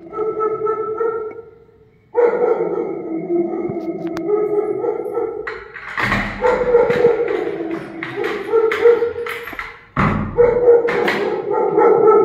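A house dog barks and yelps in repeated loud, close bursts after the doorbell rings, with a few short pauses between volleys.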